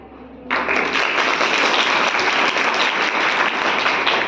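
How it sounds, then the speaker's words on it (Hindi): A hall audience at a Class 12 students' school play bursts into thunderous applause, the clapping starting abruptly after a short quiet moment and staying dense and loud to the end. "हाल में तालियों की गड़गड़ाहट"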